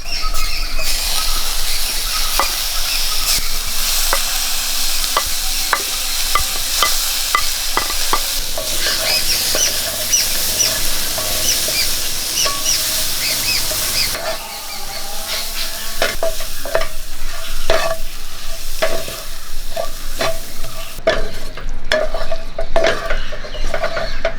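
Cooked beans stir-fried in a pan with turmeric and crushed chili, a continuous loud sizzle with repeated scraping and stirring clatters of a spoon against the pan throughout.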